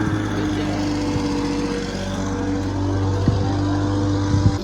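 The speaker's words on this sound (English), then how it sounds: "gonna mow the lawn" A petrol lawn mower runs steadily nearby while a lawn is mowed beside a converted bus home, its engine hum continuous with a few brief bumps, and faint voices in the background.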